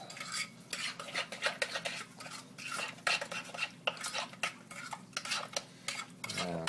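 A utensil scrapes and clatters rhythmically against a pan as pumpkin puree with sugar and cinnamon is stirred in oil, the repeated close strokes riding over a faint low sizzle.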